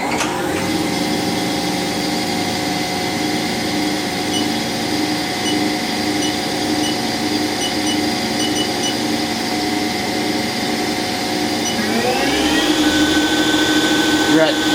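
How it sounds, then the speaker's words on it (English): A Haas SL-20T CNC turning center lathe spindle spins at a steady high whine with layered tonal hum, then ramps up in pitch near the end as the speed rises, loud and continuous. "Next we'll go ahead and fire up the spindle."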